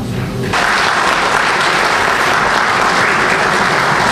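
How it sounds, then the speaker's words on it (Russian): Loud, sustained applause from members of a regional council session after a vote on the language decision, bursting in abruptly after a brief pause and holding as a thick, steady roar of clapping. "решение встретили аплодисментами"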